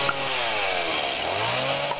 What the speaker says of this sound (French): vous voulez ouvrir une bière mais vous n'avez pas de décapsuleur, c'est pas grave, une tronçonneuse ça suffit.